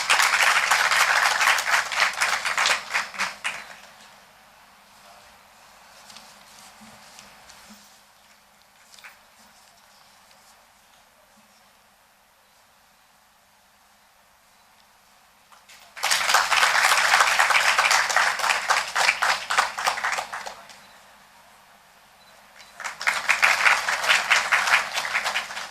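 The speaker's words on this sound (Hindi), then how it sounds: "जोरदार तालियों से स्वागत करें।" A literary festival audience bursts into loud applause welcoming a guest onto the stage, two strong waves of clapping separated by a long, near-quiet gap, then a shorter final burst.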